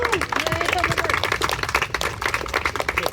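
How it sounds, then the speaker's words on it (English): Outdoor crowd clapping at a Bryant Avenue street celebration honoring Public Works staff, brisk uneven claps close by with voices and cheering mixed underneath. "Can we give them a huge round of applause?"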